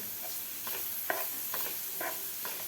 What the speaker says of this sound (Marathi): आपल्याला हे मिरची आणि लसूणसुद्धा कांद्याबरोबर परतून घ्यायचं आहे